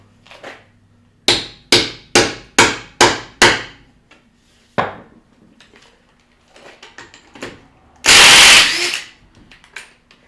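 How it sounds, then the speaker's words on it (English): A hammer straightens a swollen part during strut and exhaust replacement on a 2012 Ford Explorer in a garage: a rapid run of five sharp metallic blows, then scattered lighter taps and a brief loud rasping noise, close and loud. "I'm not hammering it anymore."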